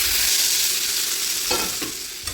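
A Nepali chukauni dish sizzles in the pan as hot tadka tempering hits it, with steady frying hiss throughout and a couple of sharper spoon-stirring scrapes near the end, close and loud with no voices.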